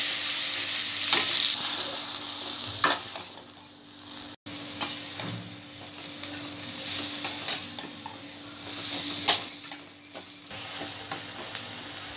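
Tomatoes hitting hot oil with onions in a pan while cooking masala puri, a steady close sizzle and frying hiss that runs throughout, with occasional stirring scrapes.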